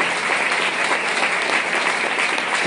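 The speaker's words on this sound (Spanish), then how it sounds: "den un aplauso al Señor." Steady, loud applause from a large church congregation in Mexico City, continuous clapping filling the whole stretch with no voices standing out.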